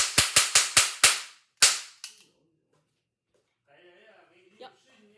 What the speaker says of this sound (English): I'm going to be shooting this cap gun